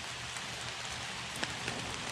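Steady rain patters through woodland along a trail, a dense even wash of drops with a couple of slightly louder close hits near the end.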